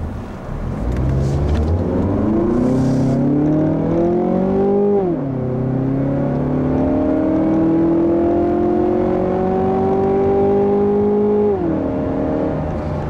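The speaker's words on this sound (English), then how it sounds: "you do have to hear that 4-cylinder making all those noises when you put your foot down" A 2016 Mazda6 four-cylinder engine revs up hard under acceleration, its pitch climbing steadily, dipping at a gear change, then rising again in a loud, sustained drone.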